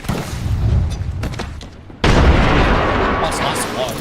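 A grenade detonates in Apex Legends: a sudden loud close explosion midway through, following quieter gunfire and talk, then a sustained roar of debris and noise.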